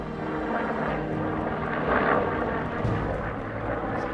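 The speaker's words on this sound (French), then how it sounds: "Un hélicoptère nous survole et disparaît derrière la montagne." A helicopter droning overhead in the mountains near Everest, a steady rotor-like rumble that swells briefly in the middle and stays loud throughout.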